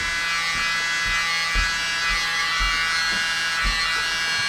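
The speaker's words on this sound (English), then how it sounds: "try to blow the CA over the colours." Small handheld blower hissing steadily as it pushes CA paint across the colours in an acrylic bloom pour, a continuous buzzy airflow with faint low thumps pulsing underneath.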